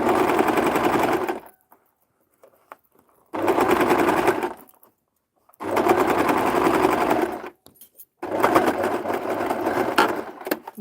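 Sewing machine stitching fabric, including reverse stitches, in four loud sustained bursts of fast mechanical whirring separated by short pauses.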